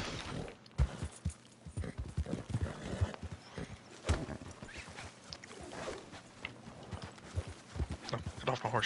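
A horse in the video game Red Dead Redemption 2 clip-clops along at a quick gallop with a whinny, under excited talk from players.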